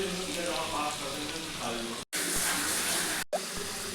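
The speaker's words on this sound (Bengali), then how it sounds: "আলুটাকে এখন ফ্রাই করছি।" Potatoes frying in oil with turmeric produce a steady, close hiss and sizzle that continues throughout, with two brief cutouts of near silence.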